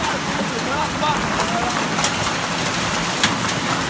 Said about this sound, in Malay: Hujan es. Banyak es ah.